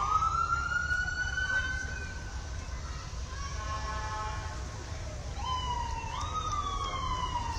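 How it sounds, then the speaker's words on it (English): An ambulance siren wails as the vehicle passes in a Memorial Day parade in St. Marys, Pennsylvania, sweeping up and down in pitch, loud over steady crowd noise, with a voice talking in the background. "St. Mary's ambulance service."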